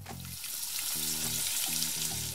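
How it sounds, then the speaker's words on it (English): Oil sizzling and spitting steadily as pork fries in a hot pan, loud and close, with bursts of low tonal hum underneath. "Wait to hear the sizzle."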